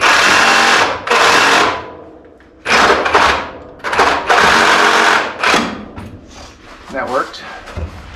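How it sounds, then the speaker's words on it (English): Sawzall reciprocating saw cutting near the accelerator cable tube on a VW Baja Bug during a bus transmission install, heard as loud, close rasping bursts of buzzing that stop and restart several times, with a voice speaking in between. "I'm going to take the Sawzall right there and right there."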